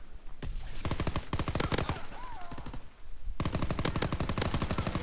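Rapid automatic gunfire from a PPSh submachine gun in Call of Duty: WWII multiplayer, loud sustained bursts with a brief pause midway, then another long burst, dense and close.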